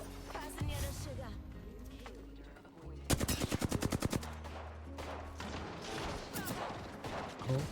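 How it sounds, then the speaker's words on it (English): Rapid automatic gunfire in the video game Apex Legends, a tight burst of about a dozen evenly spaced shots in the middle, with scattered game effects, music and talk around it. "Getting shot at."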